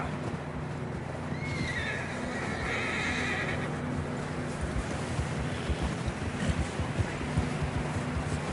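A horse whinnies loudly in Red Dead Redemption 2, a rising, drawn-out neigh near the start, with hooves clip-clopping and wind noise running steadily underneath throughout.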